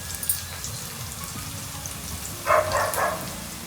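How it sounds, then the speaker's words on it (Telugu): Onions frying in a pan for a dry eel fish curry, a soft steady sizzle and crackle running throughout, with a brief louder burst of spatter near the end. "ఉల్లిగడ్డ వేగడానికి ఒక 5 నిమిషాలు దాకా పడుతుందండి"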